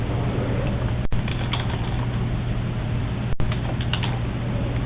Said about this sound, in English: For training purposes, we're just going to type first for first name